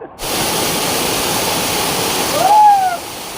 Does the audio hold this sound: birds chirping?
no